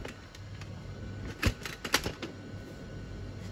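Buttons on the keypad of a Necta Opera vending machine are pressed, giving a few sharp plastic clicks over a quiet room hum.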